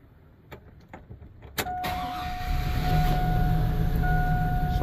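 A car with a P0300 misfire and lost power runs during a cylinder misfire test. A few faint clicks come first, then the engine catches and settles into a steady, close running drone with a thin whine above it, with no talk.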